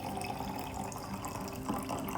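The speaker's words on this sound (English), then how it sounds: "so now it's time to put our water kefir into the jar" Water kefir pours into a jar without a funnel, a steady close splashing and trickling of liquid with a gurgling stream throughout and no talking.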